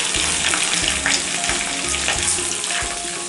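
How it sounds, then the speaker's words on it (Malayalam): Okra (lady's finger) frying in hot oil in a pan, a steady loud sizzle and crackle with occasional stirring scrapes, close and continuous with no talking. "എണ്ണയും ചൂടായി വന്നിട്ടുണ്ട്. നമുക്ക് ആദ്യം തന്നെ ഈ വെണ്ടക്ക ഒന്ന് ഫ്രൈ ചെയ്തെടുക്കാം."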